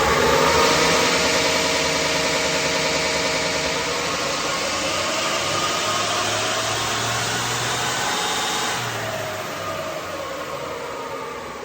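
A Toyota N80 Hilux with +30 injectors runs hard on a dyno, its engine roaring loud and steady under a broad whooshing rush, then easing back toward the end of the pull.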